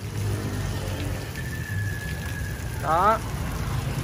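Water sprayed at close range onto the front grille of a new dual subwoofer speaker box during a water test, a steady hissing spray under brief speech, with a short warbling tone near the end.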